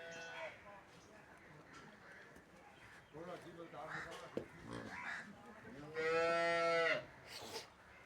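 A cow moos loudly at a cattle sale in Punjab, one long drawn-out call amid people talking nearby, with a crow cawing in the background.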